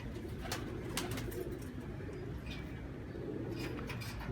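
A golden Lakha pigeon coos softly, low repeated calls over a steady background hum, with faint sharp chirps from other birds around.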